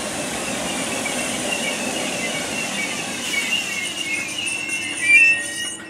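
A steady rumbling Merseyrail train passes Hoylake Station at moderate distance, with a rising metallic squeal and brief whistle-like tone toward the end.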